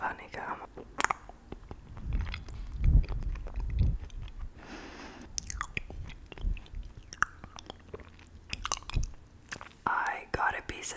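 A giant piece of honeycomb is chewed close to the mic in an ASMR eating session, with steady wet, sticky mastication and soft bites alongside quiet whispering.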